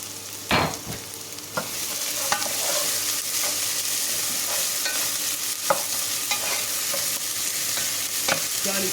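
Garlic and ginger fry with golden onions in a pan, a steady close sizzle. A utensil knocks and scrapes against the pan now and then as the mixture is stirred.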